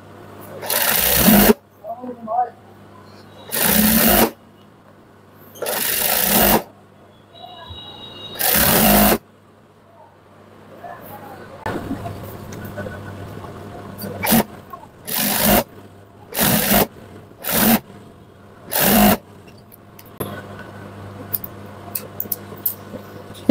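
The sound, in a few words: sewing machine top-stitching a shortened sleeve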